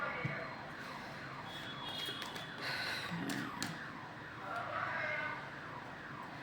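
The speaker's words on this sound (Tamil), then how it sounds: "ஆம்புலன்ஸ் சவுண்ட் கேட்குது." A distant ambulance siren wails faintly beneath a busy, noisy background, its rising and falling tone hard to pick out.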